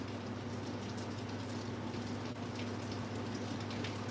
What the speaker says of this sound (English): Yep, it's starting to rain. Y'all hear that?